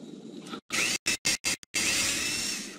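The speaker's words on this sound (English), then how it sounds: "Drill two holes by the doorway for the hinge screws." Power drill boring hinge-screw holes by a cabin doorway in the Tonka Workshop video game: a loud, steady whirring burst, then several short choppy bursts, then a long sustained whine, with no talk.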